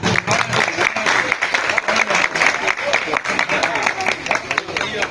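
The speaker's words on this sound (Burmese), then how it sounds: "လက်ခုပ်လေးကြည့်ပေးပါဦးခင်ဗျာ" An audience claps loudly and continuously at an award ceremony where certificates go to sponsors and models, with voices faintly under the applause.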